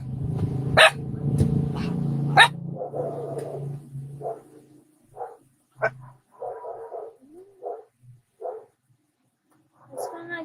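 A dog barks in several sharp bursts close by, then gives scattered softer yaps and whimpers with pauses of quiet between them.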